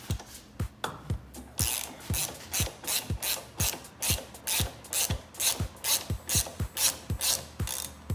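A ratchet fitted with a 14mm socket and extension clicks rapidly on the lower shock bolt of a lifted Kawasaki Z125 motorcycle, about sixteen sharp, evenly paced strokes, close and loud with no voices.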